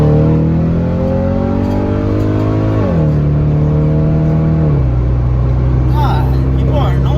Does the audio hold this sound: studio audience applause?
no